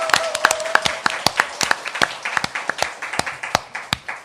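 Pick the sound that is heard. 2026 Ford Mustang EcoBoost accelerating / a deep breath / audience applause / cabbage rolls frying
audience applause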